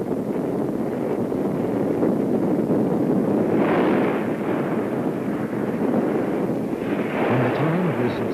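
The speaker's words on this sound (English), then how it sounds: "The nation's first nuclear bomb containing thermo materials explodes successfully." Archival recording of China's first thermonuclear bomb test, a sustained, loud low-frequency roar and rumble with gusting wind-like noise rising and falling throughout, no clear separate blasts.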